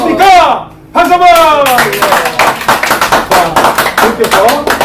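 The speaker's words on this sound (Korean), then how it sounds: "박수 한번!" Applause from a lecture audience: a voice briefly at the start, then a steady, dense patter of hand clapping that carries on to the end.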